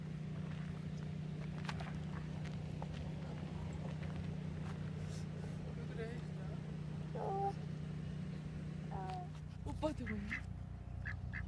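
Ducks quacking in short scattered bursts over a constant low hum and outdoor background, with a few quacks clustered near the end.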